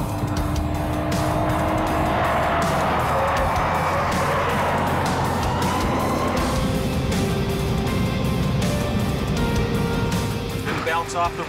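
A fast car at Willow Springs Raceway roars continuously at close range, the engine note climbing through high revs with tire noise and wind rushing, a steady loud drone from start to finish.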